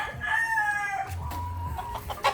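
A native chicken clucks and gives a drawn-out crowing call close by, followed by a few shorter clucks, with no talking.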